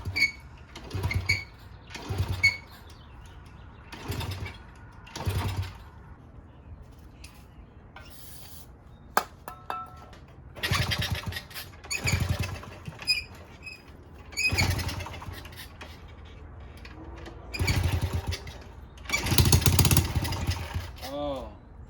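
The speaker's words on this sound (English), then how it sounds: "See if this thing starts up." A 1971 Honda CT70H four-speed minibike, crusty and carburetor-troubled, repeatedly cranked in short bursts as its small engine tries to catch, sputtering briefly between quiet gaps, close by with occasional talk.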